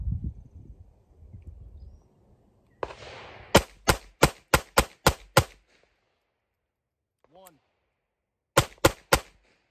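A Ruger LCP-2 .22 LR pistol fired rapidly: a quick string of about seven sharp, loud shots, a pause with a faint ring, then three more shots close together, preceded by handling noise.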